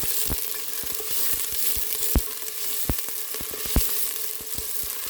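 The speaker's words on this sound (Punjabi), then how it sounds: "ਪਿਆਜ਼ ਪਾ ਕੇ ਥੋੜ੍ਹਾ ਥੋੜ੍ਹਾ ਇਹਨੂੰ ਹਿਲਾ ਦੇਵਾਂਗੇ" Onions fry in a pan with a continuous crackling sizzle while a spoon stirs them, and sharp scraping taps land irregularly, close and clear, with no talking.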